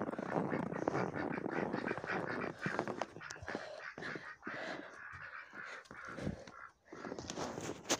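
Close, harsh squawking and clucking calls from a village chicken, repeated irregularly with a steady rustle in the background.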